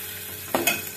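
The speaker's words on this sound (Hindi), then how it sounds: "प्याज फ्राई होंगे फटाफट" Onions frying in a pan make a low steady sizzle, with two quick stirring scrapes close together near the middle.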